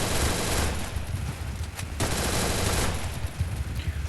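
Rapid automatic gunfire in the battle royale video game Free Fire, loud and continuous bursts filling the whole clip with no speech.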